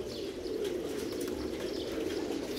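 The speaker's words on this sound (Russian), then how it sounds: "Очень много двухчубой птицы." A crowd of double-crested pigeons keeps up a constant soft cooing drone nearby, punctuated by a few light chirps and brief wing flutters.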